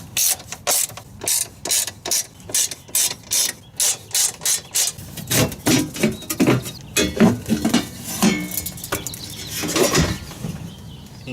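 A hand ratchet with a Torx T30 bit works screws loose during a Sprinter starter and Y cable replacement, making a steady run of sharp clicking bursts that turn into faster, denser clatter, loud and close with no talking.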